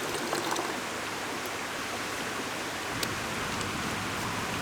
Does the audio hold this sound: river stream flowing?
yes